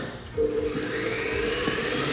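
A kitchen stand mixer starts abruptly after a brief quiet moment and runs a quick mix. It makes a steady, fairly loud motor whirr with a constant hum and light rattling, with no talking.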